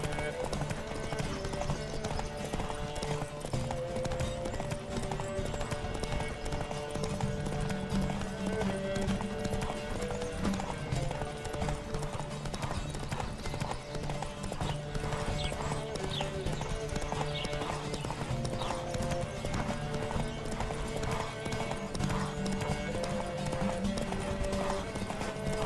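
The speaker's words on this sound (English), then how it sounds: "Don't spare the horse!" A horse gallops in The Witcher 3 during a race, its rapid, rhythmic hoofbeats sounding continuously and close over game music and ambient noise throughout.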